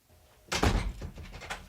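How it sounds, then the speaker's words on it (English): A door is shut with a solid thunk, followed by a few softer clicks and rattles as it is locked, close by in a quiet indoor room. "She not only locked the door"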